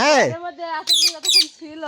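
A bird gives a harsh, wavering squawk, then a couple of shrill rising calls in quick succession, loud and close.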